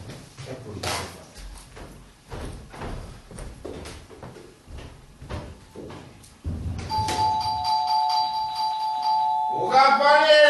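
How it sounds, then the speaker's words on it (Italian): A household doorbell rings near the end with a bright electronic ding-dong chime, following stretches of people talking in a domestic Italian comedy setting. "Agrippina, o campanello! Felice, o campanello!"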